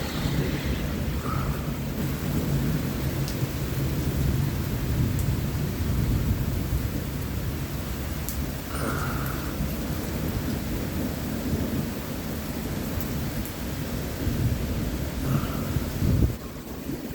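Thunderstorm with steady heavy rain and rolling rumbles of thunder, the rain hiss constant throughout and the thunder swelling in low, drawn-out waves, with gusty wind brushing the microphone.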